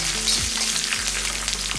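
Three slit green chillies and curry leaves sizzle in hot oil for cabbage poriyal, a steady close crackle and hiss with a few soft scrapes of stirring, and no voices.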